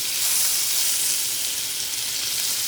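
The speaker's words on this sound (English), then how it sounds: "I'm going to add some of the unsalted butter. Time to let it melt for a little bit." Unsalted butter melting in a hot pan, the same pan just used to cook bison sirloin, gives off a steady, close sizzling hiss that holds evenly throughout with no voices.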